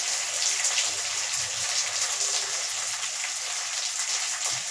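Mint leaves fry in a very hot kadai, giving a loud, even hiss and crackle like heavy rain, continuous and close.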